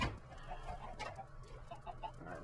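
Chickens cluck softly in a farming pen inside a sandbox video game, several short, faint clucks overlapping over a low background hum, with no talking.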